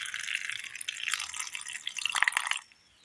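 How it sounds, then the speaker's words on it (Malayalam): Water poured from a tap or jug onto flattened rice (aval), a steady splashing trickle with faint drips that runs for over two seconds and then stops abruptly, close and alone. "അവിലിലേക്ക് അല്പം വെള്ളം ഒഴിച്ചു കൊടുക്കാം"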